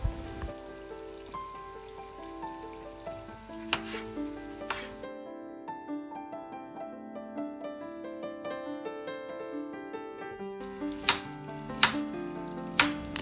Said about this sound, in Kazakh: Келесі картопымызды турап аламыз. Барлық көкөністерімізді дәл видеодағыдай кесіп шығамыз.